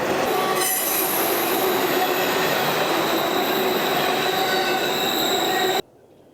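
A train rumbles past continuously with loud, high metallic wheel squeal over the roar, then cuts off abruptly to near silence.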